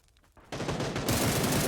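Gunfire in the video game PUBG breaks out abruptly and continues as a loud, dense, rapid volley of shots, sustained without pause.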